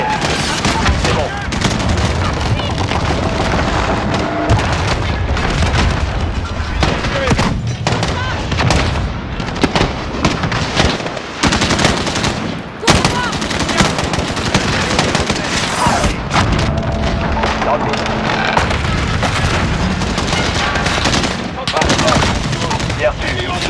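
Dense automatic gunfire and explosions from Call of Duty Modern Warfare, loud and continuous bursts of rapid fire with booms throughout, and voices speaking over the combat at times.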